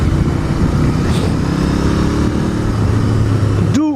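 A Royal Enfield Interceptor Twin motorcycle of about 200 kilos being ridden, its engine droning steadily and loudly up close with a low rumbling tone throughout.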